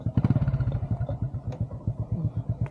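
A motorcycle on a muddy rural track beside farm fields, its engine putting along in uneven low chugs with rattling clatter as it slows and is brought to a stop to park.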